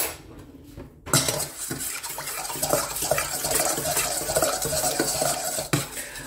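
Lemon zest and other ingredients for a chocolate Bûche de Noël being mixed in a bowl, producing a steady, busy run of clinking and scraping from the utensil against the bowl, close and fairly loud.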